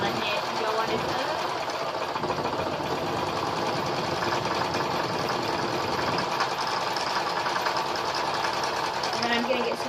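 Domestic sewing machine stitching cotton sheet fabric into cloth tissues, a steady fast mechanical whir and rapid needle clatter running continuously, with someone talking over it.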